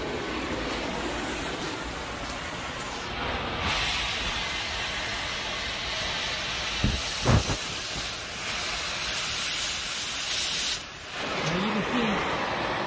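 A cutting torch slicing through sheet metal gives a steady, loud roaring hiss that continues throughout, with brief pops and crackles partway through.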